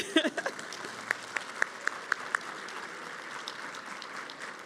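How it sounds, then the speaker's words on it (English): Applause at an equity awards event in Pittsburgh: a soft spread of clapping from a seated audience with a few sharp, distinct claps standing out near the front, fading to a light patter. "So can we just clap for this?"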